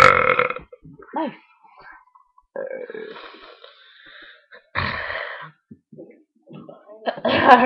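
Several loud on-demand burps from a person, separated by quieter breathing and throat noises, with a last burst at the end; the belches are close and fairly forceful.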